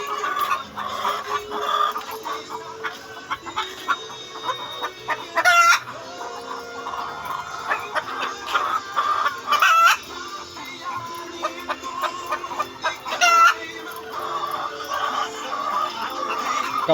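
Laying hens on a working farm of about 400 layers cluck steadily and close, with several sharp rising squawks standing out from the flock's continuous chatter.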